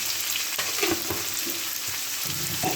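Spinach and mixed vegetables, seasoned with turmeric and sugar, sizzle steadily in a pan while a spoon stirs them in soft scraping strokes; the frying hiss stays close and constant with no voices.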